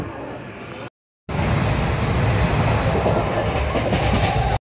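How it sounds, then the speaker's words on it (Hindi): A train pulls away on the rails with a steady rumble and rhythmic clickety-clack of the wagons, loud and continuous after a brief gap of silence near the start. "और यहां पर अपनी ट्रेन चल पड़ी है।"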